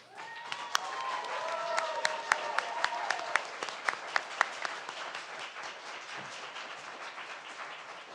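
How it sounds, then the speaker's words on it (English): Applause from the audience at a school district board of education meeting, a moderately distant, steady patter of many hands with a few sharper individual claps, lasting several seconds under faint background voices. "Thank you very much for the applause."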